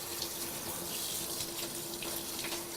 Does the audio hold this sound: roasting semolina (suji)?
no